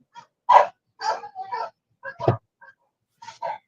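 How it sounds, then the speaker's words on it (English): Several close, sharp barks and yips from neighboring dogs, coming in short irregular bursts separated by brief silences. "Got my neighbor's dogs."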